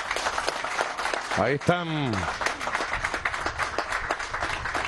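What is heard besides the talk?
audience applause for soldiers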